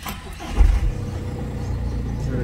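A Skoda car engine cranks and catches with a short loud burst, then settles into a steady, close idle.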